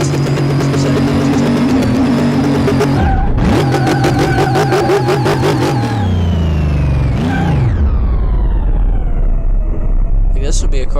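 A car engine in the Car Mechanic Simulator video game revs up in fifth gear, harmonics climbing and gear changes breaking the pitch, loud and steady with a voice talking over it.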